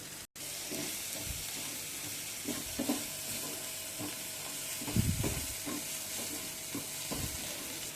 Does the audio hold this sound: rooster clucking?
no